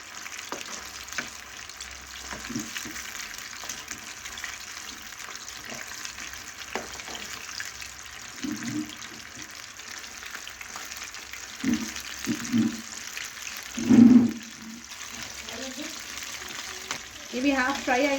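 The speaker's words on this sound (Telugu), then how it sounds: "గోల్డెన్ బ్రౌన్ కలర్ వచ్చే వరకు ఫ్రై చేసుకోవాలండి." Chicken pieces frying in hot oil for KFC-style fried chicken, a steady soft sizzle running throughout with a few louder bubbling bursts, heard alone without talk.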